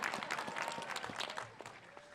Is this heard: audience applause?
yes